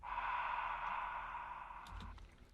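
Ambient vocal 'ah' sample, auto-filtered with delay and reverb, holding a soft sustained airy tone for about two seconds before fading into faint clicks.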